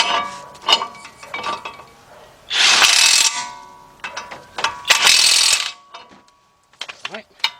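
An 18mm ratchet clicks as bolts are tightened on a 2005 Chevy Trailblazer during brake and hub work, with close, bursty ratcheting strokes, metallic clinks and a couple of louder rattling bursts between pauses.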